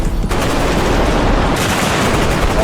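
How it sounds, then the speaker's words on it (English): Dense, overlapping gunfire from a bodycam-style first-person shooter game: rapid bursts of automatic shots with booming reports, loud and continuous throughout, with no voices. "I'm talking about a full rework with gunshots."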